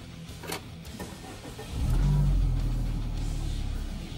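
A Peugeot 508 1.6 THP fires up with push-button start from inside the cabin: faint clicks give way to a short starter whir and a rising engine hum that settles into a steady, muffled idle.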